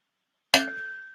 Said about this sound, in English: Don't you do that gong until you hear that final